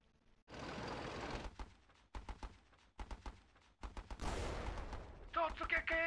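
Rapid bursts of machine gun fire in a real-time strategy battle on Battle Islands Commanders, with anti-armor gunner units shooting amid explosions; loud, dense volleys come in clustered rattles separated by short gaps, with no speech over them.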